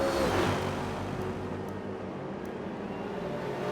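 Race cars in a sim racing game at Spa, a 4-hour endurance event, sweeping down through Eau Rouge and Raidillon: a steady, dense engine roar that swells at the start and then holds, with no commentary over it.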